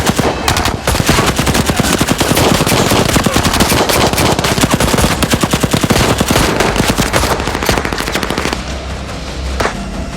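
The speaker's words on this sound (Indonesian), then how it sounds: "Baku tembak terjadi." A video game shootout with loud, rapid machine-gun bursts and overlapping gunshots firing almost nonstop, easing slightly toward the end.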